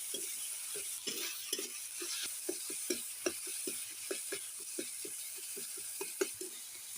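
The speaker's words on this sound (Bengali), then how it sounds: "এটা কিন্তু তেলাপিয়া মাছের ঝাল করছি। নেড়ে দিলাম ভালো করে।" Tilapia curry fried with salt, chili and cumin powder in a pan is stirred with a utensil, making soft repeated scraping taps over a faint background sizzle, quiet and close, with no talking.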